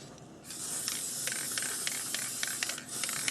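Aerosol spray hisses onto craft stars in one continuous broad burst lasting about three seconds, close and steady, with faint clicks within it and no talk.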